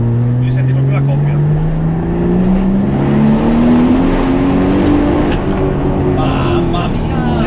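Toyota Supra engine revving hard at full throttle in third gear, a loud continuous rising engine tone climbing steadily as it accelerates, heard from inside the car with a voice speaking over it.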